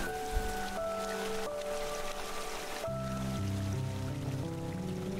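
Rain falls steadily inside the caves of the video game Hollow Knight, a continuous soft hiss under sustained, tonal game music with no voices.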